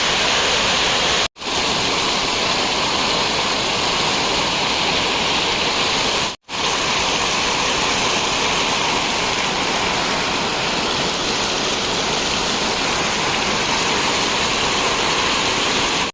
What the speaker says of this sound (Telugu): వాటర్ ఫాల్స్ అయితే బాగానే ఉంది